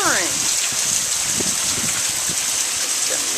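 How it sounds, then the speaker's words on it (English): Steady heavy rain pours down in a dense, constant hiss, with faint voices briefly audible beneath it. "Ooh, it's pouring."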